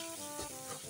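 Spice paste frying in a pan while being stirred for a Bengali bottle gourd dish, a close, steady hiss and sizzle with faint scraping, no voices.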